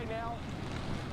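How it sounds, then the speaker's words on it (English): Hurricane Ian's winds roaring across Captiva Island with churning surf beneath, a dense, steady rush of wind noise hitting the microphone, loud and unbroken over this short stretch. "So the wind continues to ramp up."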